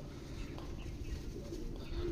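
Gola line pigeons coo in a full loft offered for sale, a low continuous murmur of throaty calls mixed with rustling and faint chirps, steady and fairly quiet throughout.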